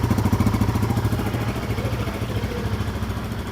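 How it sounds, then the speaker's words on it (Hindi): A Royal Enfield Guerrilla 450 motorcycle exhaust burbling at a steady idle up close, a continuous low throbbing thump with no talk over it. "बाइक के साइलेंसर की अगर साउंड की बात करें तो सिमिलर है, हिमालयन वाली ही साउंड इसमें आ रही है"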